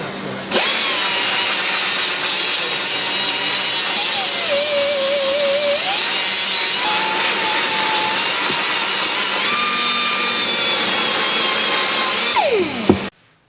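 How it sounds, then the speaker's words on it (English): A cast aluminium slingshot is sandblasted with coarse aluminium oxide grit, producing a loud, steady, close-up hiss that runs unbroken for about twelve seconds and then cuts off abruptly. "So the sandblasting is done to discover impurities and pinholes."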